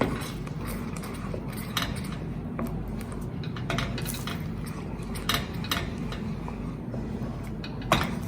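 A spoon works through macaroni and cheese sauce in a bowl, giving a steady wet churn broken by scattered clinks and scrapes against the dish, close up and with no talking.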